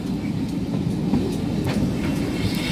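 A West Somerset Railway train arrives at Blue Anchor during a spring gala, heard from on board as a steady low rumble with faint rhythmic wheel clatter.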